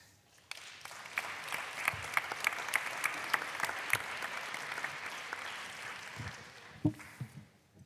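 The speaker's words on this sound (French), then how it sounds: "je pense qu'on peut encore les applaudir pour cette table ronde de prospective" An audience applauds after a round table discussion on future European careers, with sustained clapping and a few sharp, close individual claps standing out. A brief knock or bump comes near the end.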